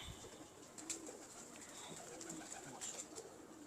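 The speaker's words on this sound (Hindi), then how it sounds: "बहुत अच्छा कबूतर।" Soft pigeon cooing at a distance over faint background noise, with a few brief chirps.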